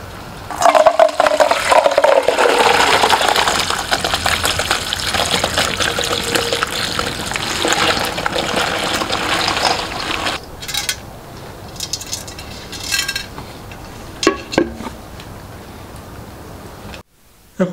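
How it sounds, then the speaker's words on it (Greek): Soaked carobs are strained as their liquid is poured off in a steady, splashing gush for about ten seconds, then a few quieter trickles and clinks; no one speaks. "είναι η ώρα να σουρώσουμε τα χαρούπια"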